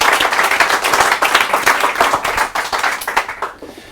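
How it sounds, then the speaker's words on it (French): Audience clapping loudly and steadily for a volunteer during an Ericksonian hypnosis session, dense broadband claps running continuously then tapering off at the end, with no talking over it. "on l'applaudit très très fort."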